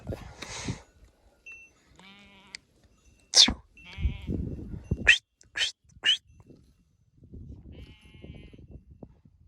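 Several sheep bleat in short, separate calls, some loud and close, others softer, with quiet rustling and brief low noises between them.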